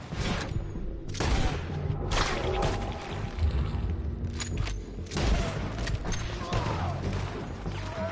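Gunfights in Red Dead Redemption 2 keep the battle dense for the whole stretch, with repeated loud booming shots, sharp cracks and whooshes overlapping. Game dialogue is mixed in with the shooting.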